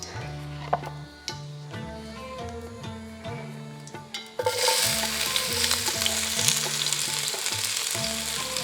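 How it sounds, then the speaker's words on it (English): Onions stir-fry in a pan for Indian masoor dal. The sizzle is close and steady, with stirring scrapes and a rhythmic low thumping under it, and it grows louder and fuller halfway through. No one speaks. "Once onions are there, then we stir fry them."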